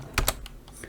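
A computer keyboard is tapped for a few quick keystrokes, Shift 8 followed by Enter. The clicks are close, crisp and brief, with no talking.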